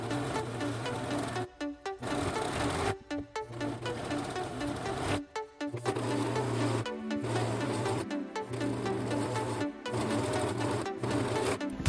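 A serger finishes a seam on cotton quilt fabric for a party skirt, running in steady mechanical bursts of a few seconds each, separated by short pauses, close and continuous with no talking.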